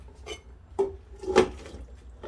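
Vegetable soup is moved into a bigger pot in a home kitchen, heard as a few sparse metallic clanks and scrapes of pots and utensils, fairly close and quiet, with no talking.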